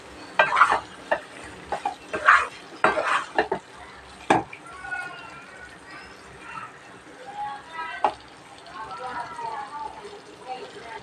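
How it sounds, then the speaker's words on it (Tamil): Potato rice cooking in a pot, with a spoon scraping and clanking against the metal in irregular stirring strokes at first, then a softer bubbling simmer, while a voice speaks intermittently. "இது அப்பப்போ திறந்து நம்ம வந்து கிண்டி விட்டுக்கிட்டே இருக்கணும்"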